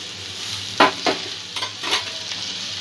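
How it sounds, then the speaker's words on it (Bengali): Chickpea curry with a spoonful of curd being mixed in a pan for chole, a low background sizzle with four or five soft scraping strokes of the stirring spoon, close and unhurried. "সব কিছু ভালো করে মিক্স করে নেব।"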